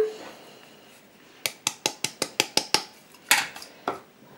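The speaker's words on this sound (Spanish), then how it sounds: "vamos a echar la leche, el aceite, la pizca de canela" Utensil clinks against a bowl while milk, oil and a pinch of cinnamon go into magdalena batter: a quick run of about eight sharp, evenly spaced taps, then a few louder knocks, close and alone.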